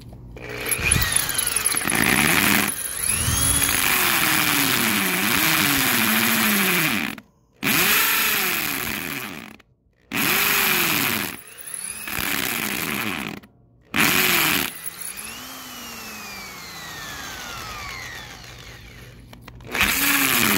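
A power drill bores into cement or masonry at high speed, whining loudly in long sustained bursts with brief pauses, its pitch sagging and recovering under pressure.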